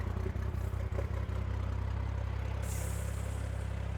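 A Haulotte 45XA boom lift's engine idles steadily just after a choke-assisted start, a low, even rumble heard close with a few faint clicks early on and a soft hiss joining partway through.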